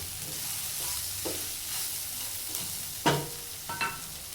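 Tomato curry stirred in a hot pan, continuous sizzling with a couple of distinct scraping stirs toward the end, close and clear.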